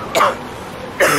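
Two sharp coughs, close and loud, separated by a short pause.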